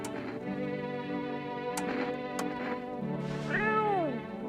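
A cat in a video game meows several times over a droning musical background, with a clear drawn-out meow near the end and no talking.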